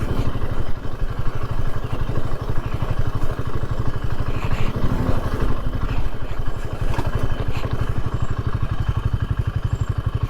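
A motorcycle coasting downhill without throttle on a night ride from Kumily to Vagamon, a steady, close, low engine pulse with rattling clatter and wind rumble throughout.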